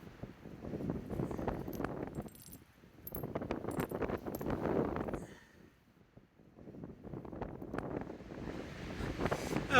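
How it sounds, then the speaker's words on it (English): Strong wind gusts buffet the microphone on an open desert plateau hike, roaring in long loud surges that drop off briefly and then build again, with no talking. "The wind is so crazy."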